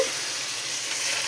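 Tempering spices hit hot oil over motor dal (split pea lentils), giving a steady, loud, close sizzle that fills the whole short moment with no voices.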